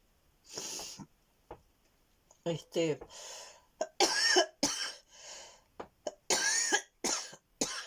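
Repeated harsh coughs in short bursts, mixed with throat clearing and some voiced sounds, fairly close and irregular in rhythm.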